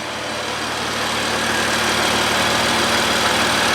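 BMW F80 M3 with resonated downpipes idles steadily and close, a loud continuous rumble with a deep, throaty tone and no talking.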